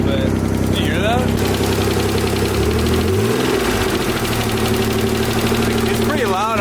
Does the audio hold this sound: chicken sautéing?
no